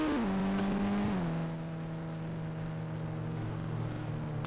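A car engine drones steadily while driving in the mobile game Indian Bike Driving 3D, a loud continuous tone that dips slightly in pitch as if shifting, with no talking.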